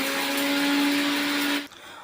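A mixer grinder whirs at a steady high pitch as it grinds roasted gram into powder, loud and close, then stops abruptly near the end.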